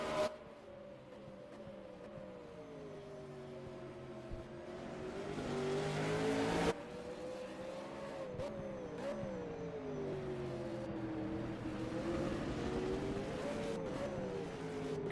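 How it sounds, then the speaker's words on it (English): V8 race car engine from a sim racing league round at Gold Coast, droning steadily through the whole stretch with pitch rising and falling as the car carries speed through corners and brakes smoothly, loud and continuous with no talk. "You can hear the engine tone come around that corner that he doesn't have to lift"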